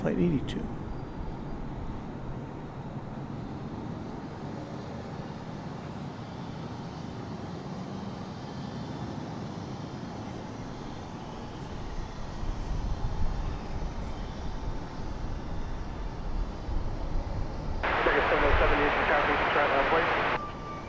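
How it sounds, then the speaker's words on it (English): A Frontier Airlines jet bound for Cancun takes off from DFW Airport, its engine roar building steadily and growing louder toward the end, with a voice talking over it. "here goes Frontier Airlines. Off to Cancun, flight 82."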